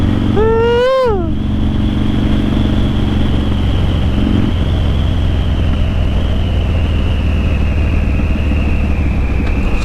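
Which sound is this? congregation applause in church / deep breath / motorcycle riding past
motorcycle riding past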